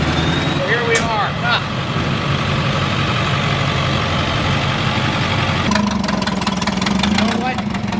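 A small two-stroke engine idles steadily and fairly close, with a slight shift in pitch and some added rattle near the end; people talk over it at times.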